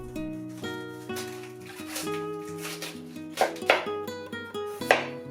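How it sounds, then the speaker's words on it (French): Knife chopping half a cabbage into thin strips on a cutting board in a home kitchen, heard as several sharp close thuds near the end over steady background music, no talking. "Découpez le demi-chou en deux,"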